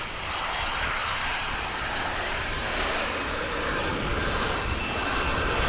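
An airliner departing Dallas/Fort Worth International Airport roars steadily in a broad, continuous engine rush, moderately distant and consistent throughout, with no voices over it.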